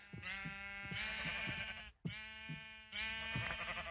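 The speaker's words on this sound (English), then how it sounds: "I need to kill some of these sheep because I have too many critters" Sheep in the Minecraft video game bleat in a few close, clear cries. Two long wavering bleats are separated by a brief gap, with no talk.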